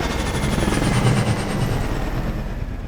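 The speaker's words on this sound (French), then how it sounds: "Hélico!" Helicopter in the Call of Duty Advanced Warfare game, a loud continuous rotor thrum with a rhythmic low beat and broad engine wash, close and without speech.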